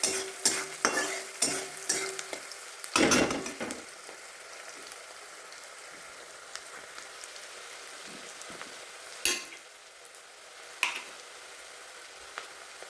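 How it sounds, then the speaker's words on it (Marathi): Onions sautéing in a pan for a dhaba-style dal tadka, with a run of sharp stirring knocks and a loud crackling burst early on, then a soft steady sizzle broken by occasional spatters and clicks. "परतून घेऊया कांदा कांदा लालसर होस्तोपर्यंत भाजायचा आहे"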